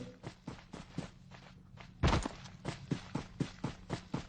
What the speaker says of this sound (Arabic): انا سامع صوت حد بيجري كده